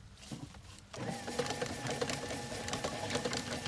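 A small elf garland machine with its motor running steadily, a busy mechanical whir with faint rhythmic ticking, close and moderately quiet after a brief softer start.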